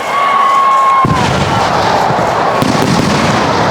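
Festival fireworks at Nenmara Vallangi Vela: a whistling rising shell followed by a massive booming barrage of explosions that roars on loud and dense, with a further sharp crack near the end.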